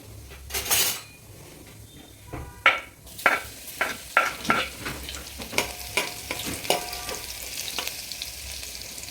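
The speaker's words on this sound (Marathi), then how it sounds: "तर मग त्यामध्ये थोडंसं तेल गरम झाल्यानंतर जिरं, राई हे टाकून घ्यायचं." Cumin and mustard seeds crackle in hot oil in a pan, with a sharp sizzle followed by a run of distinct metal spoon clinks and scrapes against the pot, close up and with no voices.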